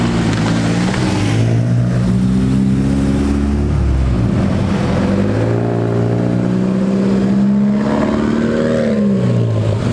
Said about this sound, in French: Il y a une McLaren qui arrive là-bas.